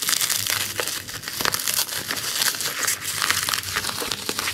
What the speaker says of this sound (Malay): Dengar plastik dikoyak lah guys